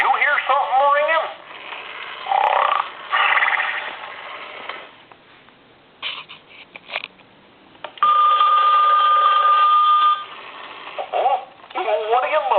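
A cartoon-style toy telephone bell rings in repeated bursts, loud and close, with a long steady ring in the middle and some playful babble and talk between bursts.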